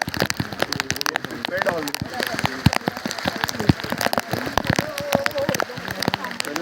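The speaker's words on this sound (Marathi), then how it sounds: "पावसाने सगळी वाट लावली" Heavy rain patters loudly and close on Raigad Fort, with sharp irregular drops hitting a surface, while someone speaks over the downpour.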